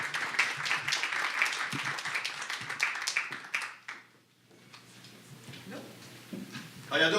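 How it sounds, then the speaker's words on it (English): An audience claps for a poet at a community talk event, a full round of applause that fades out around the four-second mark, followed by quiet room tone and a voice starting to speak. "Give him a round of applause."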